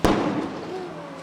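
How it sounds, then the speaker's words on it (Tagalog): A single sharp blast from an explosion during a house fire bursts out at the start, then a long rumbling decay with crackling debris and a faint whine trailing off. "May mga naitala ring pagsabog."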